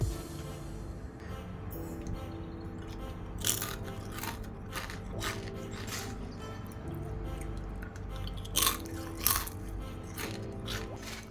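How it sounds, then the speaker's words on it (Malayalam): Crisp homemade rava (semolina) chips being bitten and chewed, with a handful of sharp crunches spread across the clip, a few louder bites standing out, close up with no talking. "നല്ല ക്രിസ്പിയാണ് ഞാൻ കഴിച്ചു നോക്കിയിട്ട് ടേസ്റ്റ് പറയാം"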